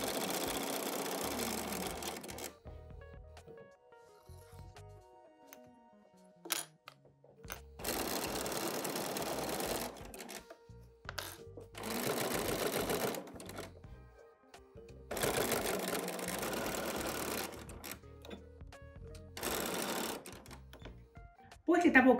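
A sewing machine stitches a zipper into a bag in several separate runs of rapid mechanical whirring, close and clear, with quieter pauses between them and someone talking in the gaps.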